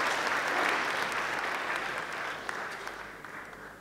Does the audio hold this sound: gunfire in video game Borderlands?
no